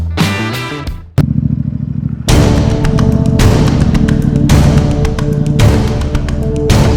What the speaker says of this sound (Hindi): बाइक चल रही है आगरा की तरफ